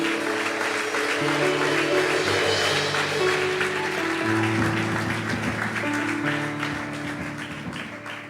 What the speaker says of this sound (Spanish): Si usted cree que Dios lo va a hacer en su casa, déle un aplauso fuerte.